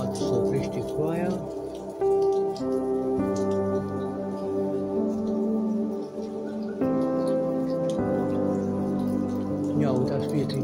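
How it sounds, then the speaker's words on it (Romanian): Rain falls outdoors in a town on a Sunday morning, a steady patter with scattered drips running through the whole stretch over a constant low background hum. "Ia uitați, prieteni, plouă."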